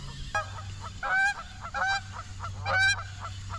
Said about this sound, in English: These geese.